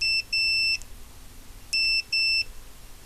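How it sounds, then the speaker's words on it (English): A multimeter continuity tester gives two pairs of short, shrill electronic beeps, clean and close, with quiet gaps between. "on my tester, on my leads here, I've got it so it's audible when there's continuity."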